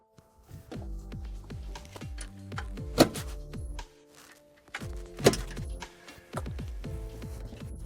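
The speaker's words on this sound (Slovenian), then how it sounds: "Najprej bomo prikazali enostavno demontažo srednjega sedeža," Middle seat legs being unlatched inside a Kia PV5 passenger van converted for wheelchair transport: a series of dull thunks with two sharp metallic clicks, set against a steady tonal background bed.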